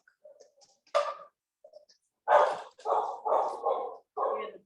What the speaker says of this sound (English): the dogs are excited. They can smell them already.